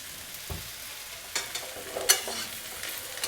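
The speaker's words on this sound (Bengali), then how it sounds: "আমি একটু হালকা করে তেল দিচ্ছি" Green banana slices fry in a pan with a light addition of mustard oil, giving a soft steady sizzle broken by a few scattered stirring clicks and scrapes, close up, with no voices.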